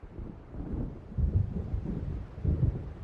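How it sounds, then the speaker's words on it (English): Deep rolling thunder from an approaching storm in the video game Alan Wake, low rumbling swells arriving in several waves over a steady windy, rainy background. "It seems there's a storm coming."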